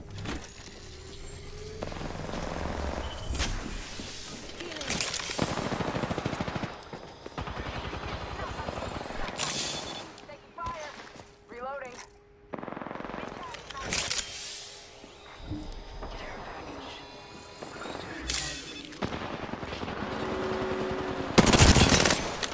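Gunfire bursts and automatic weapon fire from an Apex Legends match, with near and distant shots and game effects spread across the fight while players talk over it.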